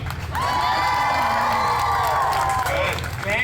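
A crowd cheers and shouts steadily at a Deadpool show at Disney California Adventure, loud and sustained, with high whoops rising over the roar for several seconds.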